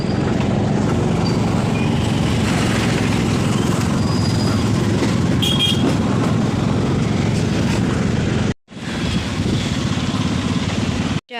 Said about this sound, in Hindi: Railway station.